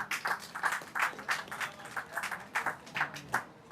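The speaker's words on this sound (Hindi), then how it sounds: "तालियों की आवाज़ बलिया तक पहुंचनी चाहिए" Clapping from the audience at an award ceremony for a Hindi literary research prize, soft and somewhat distant, with claps falling in a loose, regular rhythm throughout.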